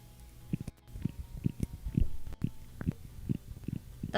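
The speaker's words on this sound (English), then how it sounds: "That's the sound of my bones grinding against each other." Bones grinding in the hands and wrists give a series of soft, close, repeated low crunches and rubbing clicks in an uneven rhythm, heard alone with no talking.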